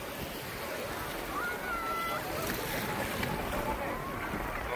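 Boats approach across open water at a tourist landing, a broad low wash of engine and water noise with wind, steady and somewhat distant throughout.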